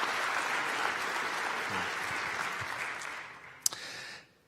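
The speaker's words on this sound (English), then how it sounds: "So also like a big applause for the community project that supported us to make the conference." Conference audience at a 2024 developer event breaks into sustained, dense applause that fills the room evenly, then tapers with a few last claps before stopping abruptly.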